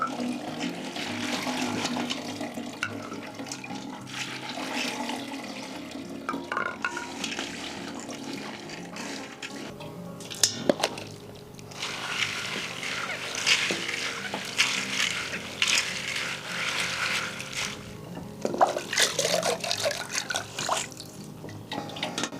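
Water runs steadily from a kitchen tap as food is rinsed, a continuous splashing wash with small clatters and knocks throughout, close and moderately loud with no talking.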